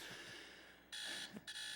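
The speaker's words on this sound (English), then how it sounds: "That's my alarm." Electronic alarm going off, a faint high-pitched buzzing tone that cuts out briefly and then resumes in short repeated bursts, heard alone.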